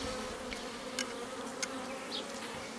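Honeybees buzzing during an inspection of a small Miniplus hive, a dense, steady drone close by with a few brief louder passes from individual bees and no voices.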